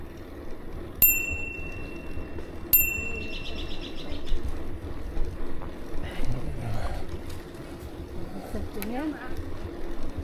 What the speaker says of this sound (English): My job is to ding the bell.